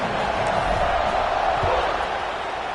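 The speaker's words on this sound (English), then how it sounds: "They're set to kick it off, and this crowd now ready to get behind them." Stadium crowd in a Madden football video game at kickoff: a loud, dense, sustained roar with a couple of faint thumps inside it.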